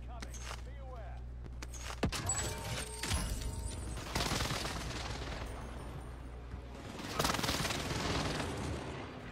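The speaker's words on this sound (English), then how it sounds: "Allied precision airstrike incoming." An allied precision airstrike in a battle royale video game, with repeated explosions and bursts of gunfire rumbling continuously at moderate loudness.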